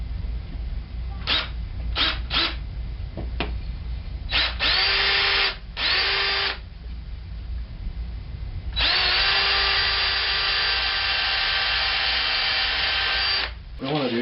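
Power drill driving 1.5-inch number 8 screws into a wooden amp cabinet slat, several short whirring bursts followed by two longer sustained runs, with a voice talking between them.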